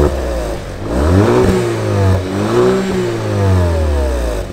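An Audi A5 engine revs up and down in steady waves through a valve-controlled exhaust in quiet mode, a moderately loud, smooth exhaust note with no talking.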